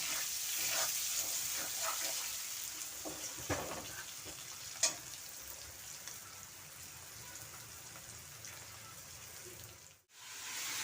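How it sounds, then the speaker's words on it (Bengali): Potatoes fry with turmeric and salt in a pan, giving a faint, steady sizzle at low level with a few soft stirring scrapes. "সামান্য হলুদ লবণ দিয়ে আলু ভেজে নিচ্ছি"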